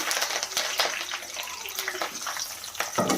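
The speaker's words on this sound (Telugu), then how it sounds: "ఈ ఆనియన్స్ బాగా గోల్డెన్ బ్రౌన్ కలర్ వచ్చే వరకు బాగా ఫ్రై చేసుకోవాలి" Onions and curry leaves frying in oil with vadiyalu in a pan for a dry fish curry, a close, steady crackling sizzle with bursts of spattering and stirring scrapes.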